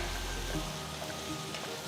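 Onions with curry leaves sizzle and crackle in a hot pan, frying golden brown for a kurma, a steady frying hiss with occasional small pops, close up and without talking.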